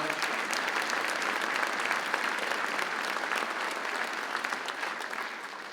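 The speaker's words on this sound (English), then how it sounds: "Give them a nice round of applause." Sustained applause from a community band concert audience, dense steady clapping filling the whole stretch with no voices over it.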